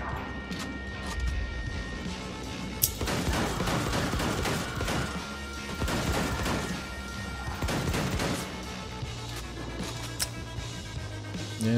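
Gunfire in the video game Wolfenstein II: The New Colossus, a dense barrage of rapid shots and crashing impacts running continuously and loudly throughout.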